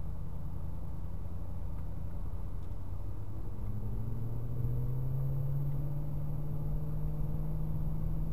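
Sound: motorcycle overtaking from the rear

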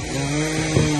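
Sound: chainsaw cutting firewood

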